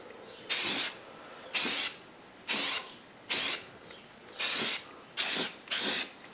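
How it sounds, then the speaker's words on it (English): Seven short hissing bursts from a Rust-Oleum spray paint can applying light coats to a model grain elevator, evenly spaced with brief pauses between, each a bright airy spray lasting under a second. "I'm going to spray it from a bit of a distance in fairly light coats."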